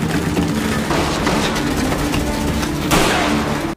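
Dense, loud gunfire and explosions roar continuously, like an action-movie shootout, cutting off abruptly at the end.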